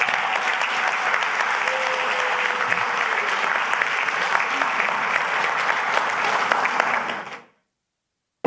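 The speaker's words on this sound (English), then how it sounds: "Grenada and the people of Grenada need to be given a round of applause." Dense, sustained applause from a conference audience at a cultural and creative industries event in Grenada, steady and fairly close for about seven seconds before cutting off abruptly into silence.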